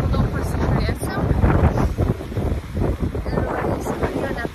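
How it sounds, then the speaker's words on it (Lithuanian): Strong wind buffeting the microphone beside a mountain lake, heavy low rumbling gusts that rise and fall continuously, with a voice speaking under the roar. "Didelis vėjas"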